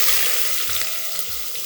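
Chopped onions sizzle and crackle steadily in hot oil in a pan while green pulav is cooked, a close, continuous frying hiss with faint stirring.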